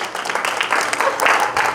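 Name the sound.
golf clap from meeting attendees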